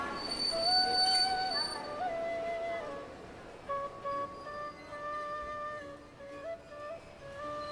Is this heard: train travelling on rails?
yes